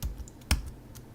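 Computer keyboard being typed on at a desk, a few light close clicks with one sharper keystroke in the middle, short and quiet with no talking.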